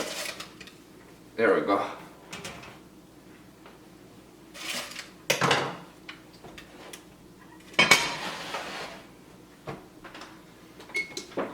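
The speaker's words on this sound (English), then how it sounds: "So, to take it out, you can use like just a spatula." A spatula lifting a baked sourdough country loaf out of its pan, giving a few scattered scrapes and clunks against the metal among quiet stretches, with a person talking briefly.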